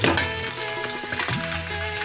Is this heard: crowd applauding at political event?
no